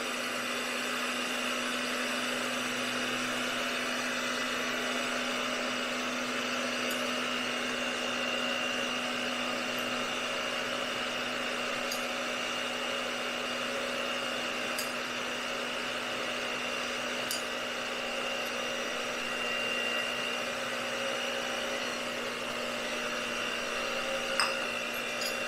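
Electric mixer on low speed whirring steadily and fairly quietly for the whole stretch as it blends a protein bread batter, an even motor hum without talk.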